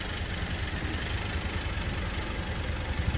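A car engine idling loudly with a deep, rough, steady rumble and slight rhythmic knocking, heard close with no talk.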